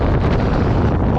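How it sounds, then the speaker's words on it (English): Wind gusting across a microphone at the top of a fairground ride at Tir Prince Fun Park, a loud continuous low rumble and buffeting that fills the whole moment with no let-up. "It's a bit windy up here"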